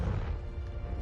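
The Confringo explosive spell goes off in Hogwarts Legacy, a short, loud burst of deep crashing rumble with no talking.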